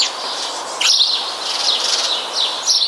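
House sparrows chirp steadily over a constant airy background hiss, their high twittering calls rising and falling without pause.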